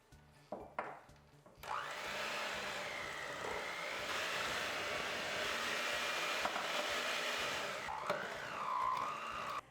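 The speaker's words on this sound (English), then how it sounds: "you'll want to use your electric mixer for this again" An electric mixer whirs steadily through cookie dough as flour is added, a loud continuous motor drone starting after a few brief knocks, with the pitch shifting near the end.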